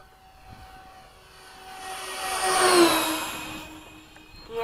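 A Freewing F-14 radio-controlled model jet flies past on a morning flight, its ducted-fan whine swelling as it nears overhead and then fading with a clear pitch drop as it moves away.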